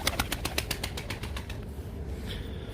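Pigeons in a loft of play pigeons, with a quick run of rhythmic flapping-like pulses at the start that fade out, then faint rustling and soft activity nearby, no talking.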